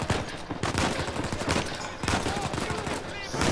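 Sustained in-game gunfire from Uncharted 4, dense bursts of shots and automatic fire filling the whole stretch, loud and close, with a voice faintly present beneath the shooting.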